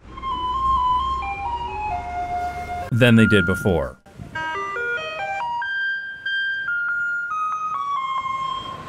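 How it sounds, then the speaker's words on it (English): A Taipei garbage truck plays its tinkly electronic melody note by note, steady and fairly close, briefly interrupted by a short burst of someone talking. "I also noticed that the garbage trucks played different music"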